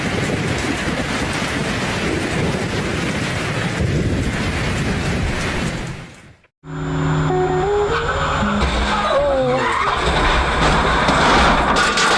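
Cars race along a curved road, with engines roaring and tires squealing during an overtaking crash. A sudden drop to silence is followed by loud screeching and roaring.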